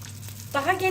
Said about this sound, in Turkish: Şu şekilde sıcak yağı bu şekilde üzerlerine atacağız.